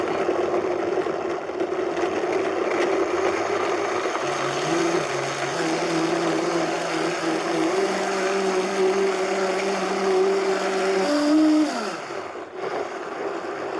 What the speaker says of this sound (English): I'm just having fun with the blender.